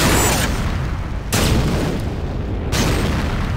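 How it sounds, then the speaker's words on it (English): A C4 charge detonates in the multiplayer shooter Renegade, a loud, heavy booming blast with broadband rumble, followed by further explosive bursts in a sustained barrage of battle noise. "C4 is set. Fire in the hole!"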